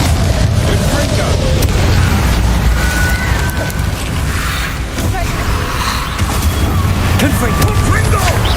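Repeated Confringo fire-blast spells in the Hogwarts Legacy video game give a dense, rumbling wash of explosive booms and crackle that stays loud throughout, with voices mixed in.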